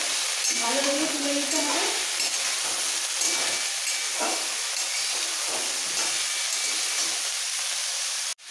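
Drumstick stalks and potatoes sizzle and hiss in an oiled pan for Bengali aloo posto, with occasional stirring scrapes; the frying stays steady and close throughout, with brief speech near the end.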